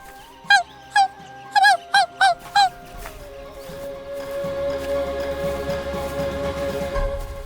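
Animated dog barking six times in quick sharp yelps, followed by a low sustained rumble and tone.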